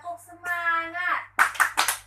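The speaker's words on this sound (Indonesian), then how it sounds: "Tepuk semangat." A group does a tepuk semangat chant at a health and nutrition gathering: a sung or chanted voice line gives way to three sharp, rhythmic bursts of unison clapping, close and fairly loud.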